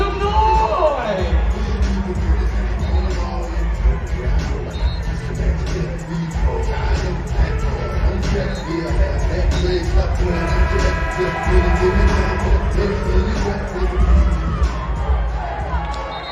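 A dense, continuous roar of crowd noise and cheering fills a gym at a CIAA basketball tournament. The cheering holds steady at full volume for the whole stretch, with a voice barely audible within it.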